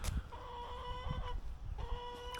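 Chickens cluck and call in a pen at a wildlife park, several close bursts with harmonic squawks over soft background noise.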